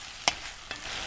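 Curry of potatoes, garlic and onion cooking in a pan: a faint sizzle with two short spoon scrapes or stirs, one sharper than the other.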